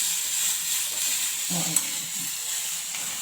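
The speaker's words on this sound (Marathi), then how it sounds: "मसाला जरा भाजून घ्यायचा" Ground spice paste (masala) roasting and being stirred in a pan for stuffed brinjal (bharli vangi), a steady soft sizzle and hiss running throughout, with a brief louder stir or scrape partway.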